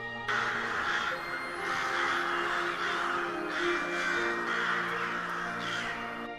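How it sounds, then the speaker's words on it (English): Crows caw repeatedly in overlapping harsh calls, a steady chorus of many birds close by with no pauses. "A whirling storm of beating wings and shrieking caws"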